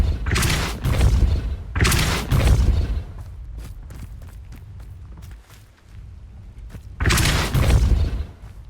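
Depulso spell effects from the Hogwarts Legacy video game: three loud, forceful blasts, two in quick succession and one after a pause, with quieter thuds and taps in between.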